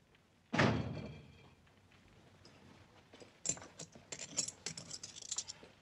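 A door in a 1971 western film is shut with a single solid thunk that rings out and fades, followed after a pause by a scatter of light metallic jangles and clicks.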